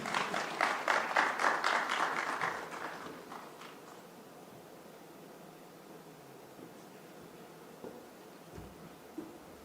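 Applause from an audience at a drone summit in Africa, a burst of clapping for the first three seconds that fades out, leaving quiet room tone.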